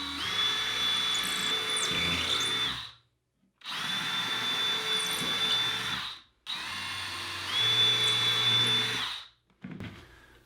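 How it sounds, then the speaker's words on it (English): A power drill bores holes into a wall to mount a Manfrotto 098SHB wall mount boom arm, running loud and close in three steady bursts of about three seconds each, separated by short pauses. "Now I'm going to drill."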